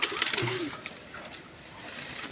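Racing pigeons in a loft give a few soft, close coos over a faint background, followed by quieter rustling.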